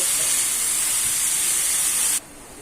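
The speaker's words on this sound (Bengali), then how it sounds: "আলু ভর্তা দিয়ে এইভাবে কিছু সময় আমি নাড়াচাড়া করে নেব" Mashed potato and tomato bharta fries and is stirred in hot oil, making a loud, even, close hiss of sizzling that cuts off sharply near the end.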